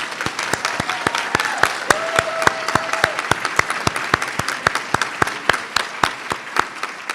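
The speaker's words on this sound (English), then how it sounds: "But give them a big round of applause." Standing-room crowd at a spring nurse pinning ceremony applauds the nursing graduates, with distinct sharp claps in a steady rhythm over a bed of softer clapping and faint voices.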